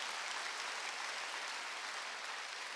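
Sustained applause from a church congregation at a Wednesday worship service, a steady dense clatter of many hands clapping at an even level throughout.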